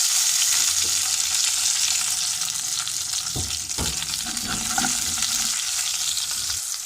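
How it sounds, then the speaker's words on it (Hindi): Dried coriander, Kashmiri chillies and green chillies sizzling in hot ghee for a kadhi pakora tadka, a loud constant crackling hiss with a couple of sharp scrapes of a spoon partway through. "मैंने घी थोड़ा सा गर्म कर लिया था। अब मैं इसमें सूखा धनिया, कश्मीरी मिर्च और सब्ज़ मिर्च जितनी आपको पसंद है उस हिसाब से आप डाल लें"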